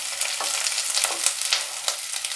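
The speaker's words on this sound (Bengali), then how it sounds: "এটা ভাজা হয়ে গেছে কপিগুলো, এর থেকে বেশি ভাজবো না" Cauliflower pieces fry in hot oil for a Bengali koi fish and cauliflower curry, giving a dense, close, continuous sizzle with small bursts as the pieces are moved about.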